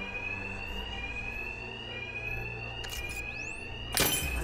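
Alarms ring in Batman: Arkham Knight as a steady, piercing electronic tone that runs unbroken throughout. A short sweeping whoosh and a loud impact crash come near the end.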